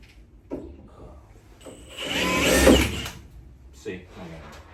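A cordless drill bores into wood in one short, loud burst of about a second, with a voice talking quietly before and after.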